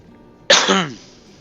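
A single short burst of coughing, close and fairly loud, from a person on a live stream, alone against quiet background hum.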